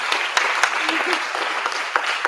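An awards-event audience applauds the keynote speaker with dense, steady clapping throughout, a full room of hands sounding close and bright, with a few voices mixed in.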